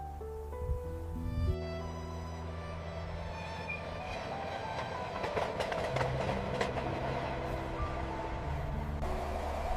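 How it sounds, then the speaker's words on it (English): A mountain train in the Swiss Alps pulls away from the valley floor, rumbling steadily with low mechanical drone and scattered rattling clicks of wheels on track, continuous and fairly close. "The Odyssey begins the second the train pulls away from the valley floor."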